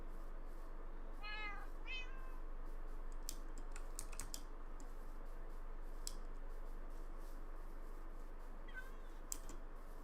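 Cats meow twice in Minecraft, short pitched-up calls early on, while computer keyboard typing and clicking patter intermittently under them and a faint meow returns near the end.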